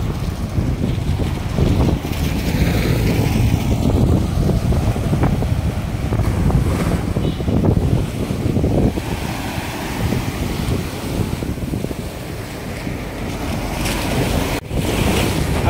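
Sea waves surge and wash near the shore at Port Blair while strong wind buffets the microphone, a loud continuous roar of surf and gusts throughout.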